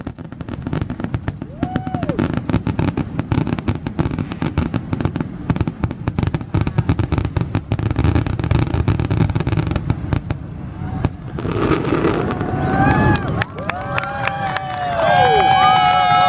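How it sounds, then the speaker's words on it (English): July 4th fireworks pop and crackle continuously, with whistling rockets rising near the end and a crowd murmuring throughout. "We're here for the fireworks"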